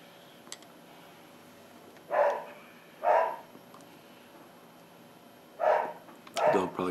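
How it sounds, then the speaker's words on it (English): A dog barks four times indoors, single loud barks spaced a second or more apart, the last two close together, over a quiet room hum. "there's the dog."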